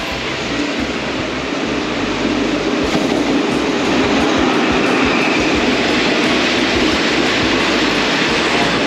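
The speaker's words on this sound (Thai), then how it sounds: "ทุกคนครับตอนนี้รถไฟใกล้จะมาแล้ว" A passenger train pulls into Ayutthaya railway station in Thailand, its steady loud rumble and rolling wheel noise filling the platform continuously throughout.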